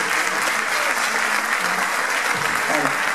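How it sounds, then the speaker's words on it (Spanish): A crowd at the presentation of favourites for the K42 Mallorca 2016 mountain race applauds loudly and continuously, with voices murmuring faintly beneath the clapping. "Así que un aplauso, por favor."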